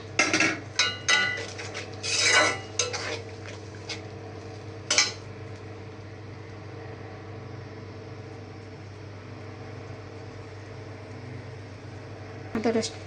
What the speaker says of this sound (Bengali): আদা রসুনের পেস্ট, মশলাটা আমি কষাইতে থাকি